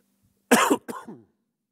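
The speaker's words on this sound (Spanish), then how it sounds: "justo ahora estoy tosiendo" A person who has choked on a bread crumb gives two close, sharp coughs in a row, followed by silence.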